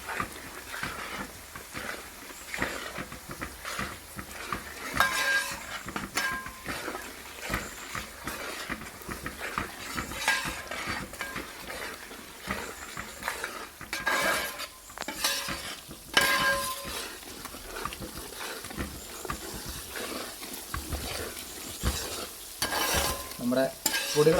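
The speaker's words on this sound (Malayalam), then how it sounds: "എന്നിട്ട് നല്ലപോലെ ഒന്ന് മൂപ്പിച്ചെടുക്കണം" Chili powder and pickle spice powder roasting in a pan for a dried fish pickle, a steady soft sizzle with stirring scrapes and occasional utensil clinks, no talking.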